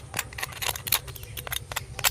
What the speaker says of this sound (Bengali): দেখুন বন্ধুরা কতটা মচমচে হয়েছে, শব্দটা শুনলে বুঝতে পারবেন।